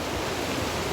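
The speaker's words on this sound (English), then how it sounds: "And those waves are pretty rough too." Rough ocean waves wash onto a beach in a dense, loud, continuous roar of surf with wind noise, brief and without talk.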